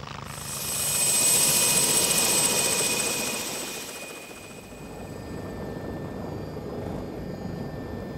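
A helicopter flies near Hartland Point and Lundy Island, a loud, steady rotor and turbine roar that swells, dips slightly midway, then holds constant throughout without any talking.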